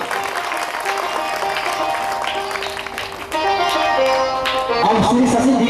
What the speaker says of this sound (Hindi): ताली बजाएं जोर से।